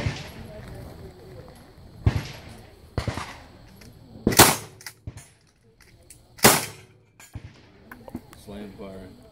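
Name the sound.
gun slam firing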